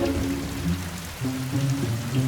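Steady heavy rain pours down in a continuous dense hiss, loud and close, with low rumbling undertones running through it and no voices.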